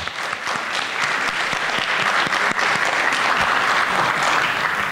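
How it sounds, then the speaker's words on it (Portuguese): Audience at a Brazilian engineering congress applauds a speaker, a loud, full crowd of hands clapping in a continuous dense patter that holds steady throughout. "Então, meus aplausos para você."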